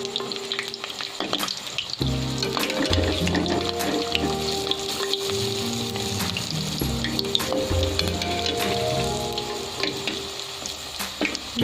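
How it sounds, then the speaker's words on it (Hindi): Dahi bhalla lentil dumplings fry in oil on low heat, a steady close sizzle with crackling pops and occasional scraping or stirring sounds throughout, no voices. "बिल्कुल हल्की आंच पे हम इन्हें फ्राई करेंगे"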